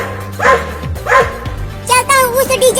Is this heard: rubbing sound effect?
no